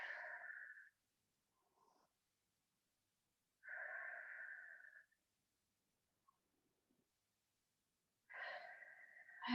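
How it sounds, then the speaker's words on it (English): Slow, deep breaths during a stretching exercise come close and soft, with three long breathy exhales separated by quiet pauses. "Breathing deeply."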